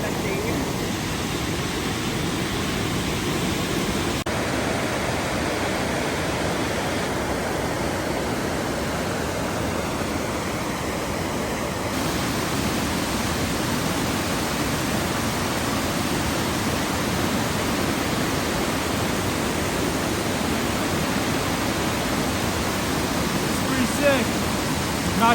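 A waterfall near McDonald Falls in Glacier National Park in winter gives a steady, dense roar of rushing water, continuous and unbroken throughout.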